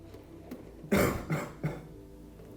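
Two or three short, forceful coughs from a person practising post-operative coughing while leaning over a surgical scar, each burst close and distinct with quiet pauses between.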